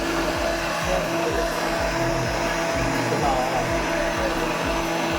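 A mixer grinder runs continuously, finely grinding masala for a chicken curry, giving a loud, steady motor whine with a low, regularly pulsing rumble beneath it.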